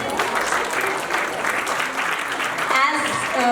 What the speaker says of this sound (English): Please have a big round of applause for these mothers.